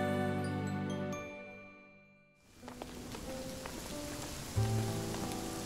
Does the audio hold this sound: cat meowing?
no